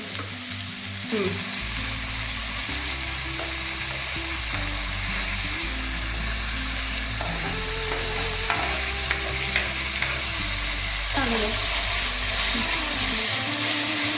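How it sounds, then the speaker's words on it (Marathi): Onion and tomato frying in a pan, a loud continuous sizzle with repeated scraping stirs of a spoon against the pan, close by, no talking. "तरी तो आपला कांदा भाजून झालेला आहे सोनेरी कलर आलेला आहे तर यात आपण टॅमॅटो घालून घेऊ"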